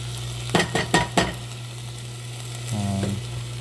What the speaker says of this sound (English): The meat and the onions cook very thoroughly, and you're going to see some juice building up